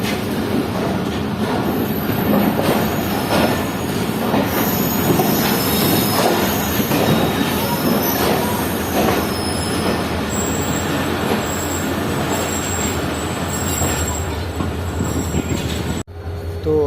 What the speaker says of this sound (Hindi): ठीक 10:15 बजे हमारी ट्रेन पहुंच रही है कोटरी जंक्शन रेलवे स्टेशन पर